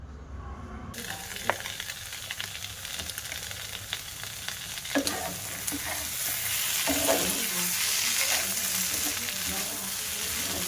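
Chow mein made from rotis is stir-fried in a pan with tomato sauce mixed in. A steady, loud sizzle runs throughout, punctuated by sharp scrapes of the spatula that grow denser and louder toward the end.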